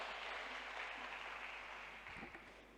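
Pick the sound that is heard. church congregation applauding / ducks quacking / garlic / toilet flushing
church congregation applauding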